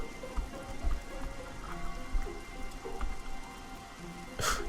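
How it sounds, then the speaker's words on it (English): Rain dripping down through wooden planks in the video game Oblivion, a steady patter of drops with a few louder splashes, moderately close and continuous, no talking. "sleeping while being rained on. Dripping down through the planks."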